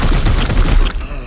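Gunfire from the turn-based tactics game Warhammer 40,000: Chaos Gate - Daemonhunters, a dense burst of booming shots filling the whole moment at steady loudness before tailing off slightly.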